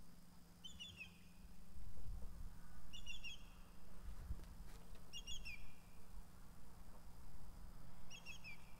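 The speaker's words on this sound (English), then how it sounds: "It's a bird I've never seen before." An unfamiliar bird repeats a short, high twittering call about every two seconds against a quiet outdoor morning backdrop with faint low rumble.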